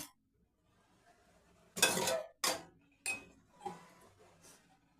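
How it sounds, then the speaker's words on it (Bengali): Fried lentil vadas drop one by one into a bowl of water, four quick splashy plops spaced about a second apart, close and fairly quiet, with a soft kitchen clink near the end. "আমি তেলটাকে এইভাবে ঝরিয়ে একটা পাত্রর মধ্যে পানি নিয়েছি এই পানির মধ্যে দিয়ে দিলাম"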